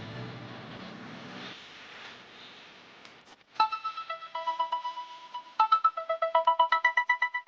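Mobile phone ringtone for an incoming call, a bright melodic electronic tune of quick repeating tones, fairly loud and close, starting after a few seconds of quiet background hum.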